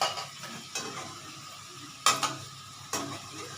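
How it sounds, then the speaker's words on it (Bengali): Chicken dropped into hot oil in a pan and stirred, a soft sizzle under a few distinct metallic scrapes and clinks of a spoon against the pan, close by, with no talking. "এবার আমি চিকেনটা আমি দিয়ে দিচ্ছি।"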